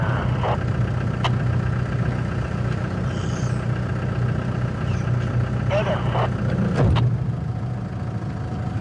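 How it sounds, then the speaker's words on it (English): A car engine idles with a steady low hum throughout a safari drive, with a few brief clicks and knocks and people talking now and then over the engine. "can you hear my car"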